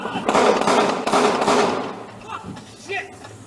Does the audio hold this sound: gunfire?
yes